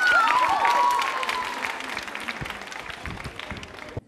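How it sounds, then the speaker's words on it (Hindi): Loud applause from an audience at a college quiz show event breaks out strongly at first, then tapers to steady, thinner clapping with a whistle-like tone early on. "दिव्या सिंह के लिए जोरदार तालियां बजाइए"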